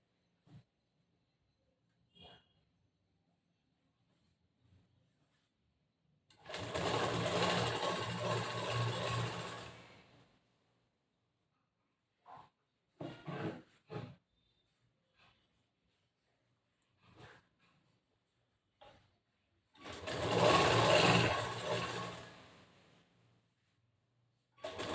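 A sewing machine stitches the back part of a cross-cut blouse in two sustained runs, with a few short stitching bursts between them and quiet gaps.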